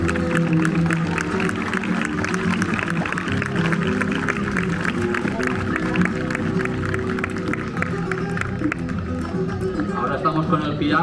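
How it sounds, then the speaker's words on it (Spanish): Crowd applause for a horse rider at a flamenco and horse show during the Feria de Abril in Gandia, Spain, with a steady rattle of clapping mixed with music and a voice over a loudspeaker. "Un fuerte aplauso a David."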